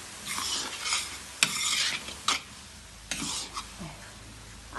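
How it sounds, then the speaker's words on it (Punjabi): Fenugreek seeds being dry-roasted and stirred in flour in a pan, close spatula scrapes and strokes repeating in an uneven rhythm over a soft sizzle. "ਹੁਣ ਆਪਾਂ ਇਹਨੂੰ ਨਾ ਇਸ ਤਰ੍ਹਾਂ ਕਰਕੇ ਭੁੰਨੀ ਚੱਲਾਂਗੇ ਸਵਾਰ ਕੇ ਆਟੇ ਦੇ ਵਿੱਚ"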